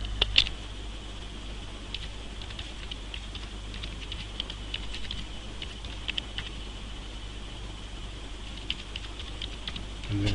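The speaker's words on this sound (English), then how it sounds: "I'm going to type in the word report on the end." Typing on a computer keyboard, with steady light close key clicks over a faint constant hum; no talking.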